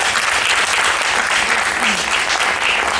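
A festival audience claps loudly and steadily, a close, dense wash of many hands that holds at full strength from start to finish.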